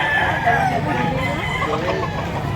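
A rooster crows at a chicken market in Lipa, Batangas, a drawn-out call amid crowd chatter and background noise, with people talking nearby.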